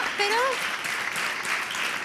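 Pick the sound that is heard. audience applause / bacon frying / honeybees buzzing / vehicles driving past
audience applause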